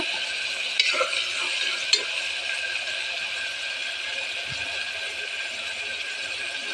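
Ivy gourd frying in a pan gives a soft, steady sizzle with a couple of brief utensil clinks near the start.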